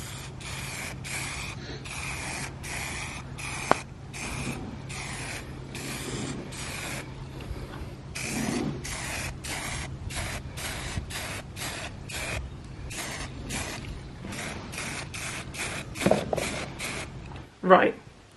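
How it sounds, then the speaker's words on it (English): Short bursts from a can of Rust-Oleum Painter's Touch matte black spray paint hiss onto built-in wardrobe doors outdoors, repeated in a quick rhythm of presses and pauses, close and steady, with a faint hum underneath. "So I'm just going to take these outside and spray them."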